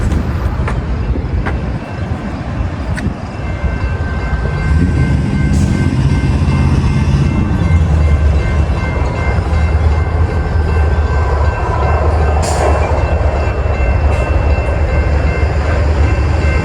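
A Metro inbound express passenger train passes without stopping, a loud, continuous rumble of wheels on rails with a faint horn and tones over the steady roar.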